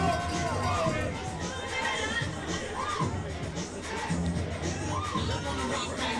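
Crowd noise at a peewee football championship game, a steady babble of spectators with scattered shouts and children's voices, loud and continuous, with a commentator talking over it.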